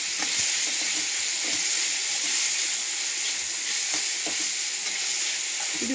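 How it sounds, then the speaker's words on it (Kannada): Vegetables for a dhaba-style veg lahori, with salt, fry in a pan with a loud, steady sizzle and hiss close by, broken now and then by faint stirring scrapes and no talk. "ಇದು ಫ್ರೈ ಮಾಡ್ಕೋಬೇಕು"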